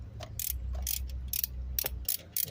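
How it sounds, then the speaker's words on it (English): Wrench turning a starter bolt on a VW 2.0 engine, a series of soft, close ratchet clicks in short irregular strokes over a low background hum. "let's see if I can use a wrench"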